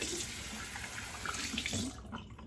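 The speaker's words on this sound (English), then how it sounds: "A little bit more warm water." Warm water runs from a bathroom tap during a shave, a steady close rush of flow that cuts off near the end, leaving a quieter trickle.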